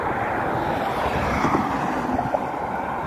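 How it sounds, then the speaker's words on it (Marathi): Heavy water released from the Ujani dam through thirteen open gates roars in a steady, loud, broadband rush near the Indapur highway, with wind buffeting the microphone throughout. "हे बघा पाणी कसलं पाणी वाहते, खळखळ खळखळ."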